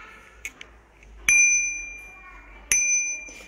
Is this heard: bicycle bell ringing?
yes